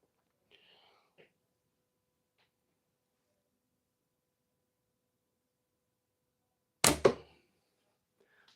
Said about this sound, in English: We're wearing out bowstrings, wearing out arrows, trying to bust knocks.